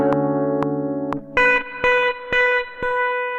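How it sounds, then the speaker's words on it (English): Electric guitar chords ring through a spring reverb whose tail is pumped by LFO amplitude modulation; a few sustained chords give way to a rhythmic, pulsing swell of reverb that rises and dips about twice per second. "it's going to pump the amplitude, so it's an amplitude modulation effect, and it's going to be applied to the reverb only"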